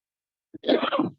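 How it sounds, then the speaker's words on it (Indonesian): A single short cough from a preacher at a church pulpit in Medan: a brief catch of breath followed by a harsh, close burst, with silence before it. "Wah, batuk masih"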